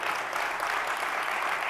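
Steady, dense applause from a large conference audience filling a hall, a uniform wash of many hands clapping at once, loud and sustained without pauses.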